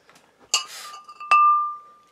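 A glass gravy dish and its ladle spoon clink together as they are handled, giving two bright glassy taps, the second ringing out clearly for half a second, close and alone.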